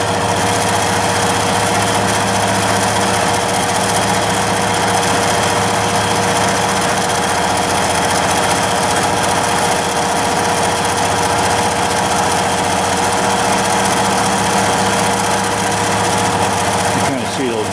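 Bridgeport V2XT three-axis CNC knee-type vertical milling machine running its program at full feed and spindle speed, a steady close mechanical whine and hum held throughout, with voices heard intermittently over it.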